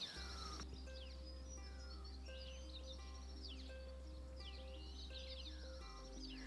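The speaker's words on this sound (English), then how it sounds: "Just native Australian bushland and the sound of birds chattering." Birds chirp and call in short scattered bursts in native Australian bushland, over a steady low hum and faint insect-like buzzing, with no voices.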